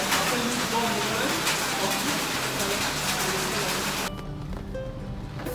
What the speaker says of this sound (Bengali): প্রচন্ড বৃষ্টি, ঝুম বৃষ্টি একদম।